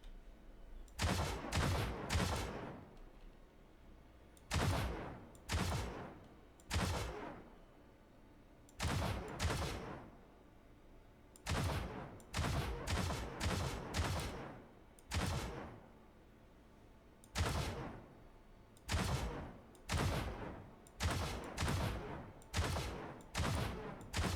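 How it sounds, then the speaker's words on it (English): Ship guns in the video game Star Citizen, on the Anvil Hurricane, firing in loud repeated bursts of rapid shots with short gaps between volleys, steady and rhythmic throughout. "Now let's see how the guns look from the outside when we shoot."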